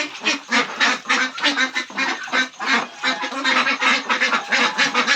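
Pekin ducks in a backyard quack loudly and close by, with repeated overlapping calls that come in quick, uneven bursts from several birds at once.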